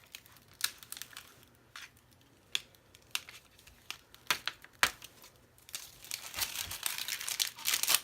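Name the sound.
peeling Cricut vinyl away slowly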